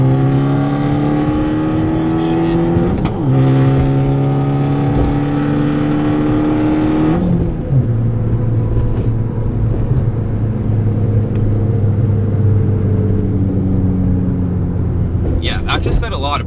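An Abarth with a flashed engine map tuned past 240 hp revs hard under throttle, a loud, close, continuous engine drone climbing and shifting in pitch with gear changes, steady throughout.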